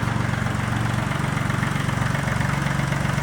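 A Kubota L1-18 diesel tractor engine runs at a steady idle, chugging evenly and loudly throughout with no voices.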